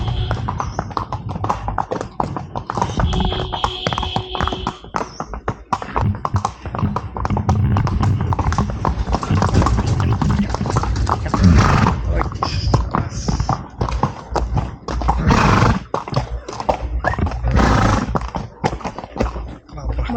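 Horse hooves clop along a dusty trail in Matheran, an irregular patter of taps running through the whole stretch, close by, mixed with people chatting and calling out to each other.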